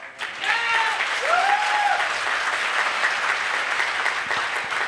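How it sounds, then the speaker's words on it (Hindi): A crowd at a memorial event claps warmly and continuously, the applause swelling early and staying dense, with faint voices and a brief rising tone mixed in the background. "आज मैंने इतनी तालियां बजाई हैं"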